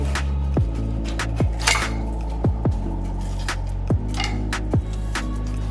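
Knife work on a whole snapper on a board, with repeated sharp taps and clicks of the blade against the surface at an uneven rhythm, close and fairly loud.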